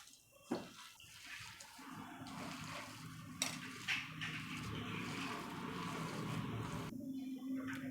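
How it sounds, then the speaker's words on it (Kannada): A mixture for sabudana vada, seasoned with lemon juice, coriander leaves and salt, being mixed by hand in a bowl, giving soft wet squelching and light scraping with an occasional clink, faint and close, with no talking. "ಇದನ್ನೆಲ್ಲ ಚೆನ್ನಾಗಿ ಕಲಿಸ್ಕೊಳ್ಳೋಣ."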